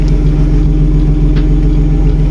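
A BMW E36 with a newly fitted exhaust idles and rumbles close by, a loud, steady low engine drone with no break and no voices.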